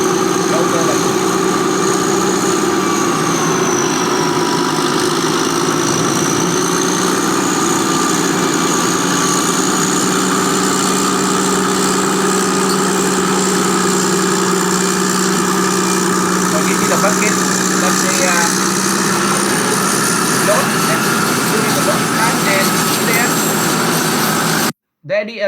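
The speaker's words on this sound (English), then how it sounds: "then the tractor pulls the scraper." A tractor pulling a scraper during earthmoving operations, its engine running with a steady droning rumble and whining tone, loud and continuous for the whole stretch before cutting off abruptly at the end.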